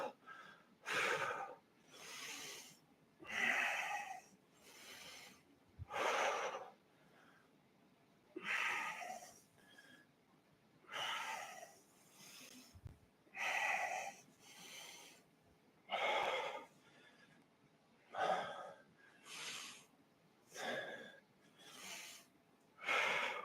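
Heavy, rhythmic breathing during a reformer leg exercise in a gym-style workout class: close, forceful inhales and exhales repeating in regular bursts with short quiet gaps between them, alone without talk.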